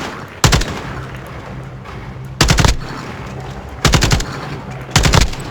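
Four sharp bursts of automatic gunfire from the video game Modern Warfare, each a loud rapid rattle separated by quieter gaps, close and with no talk over them.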